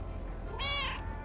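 A cat named Mortimer in the video game Lake gives a single short, clear meow, rising and falling in pitch, heard close over a low ambient background hum.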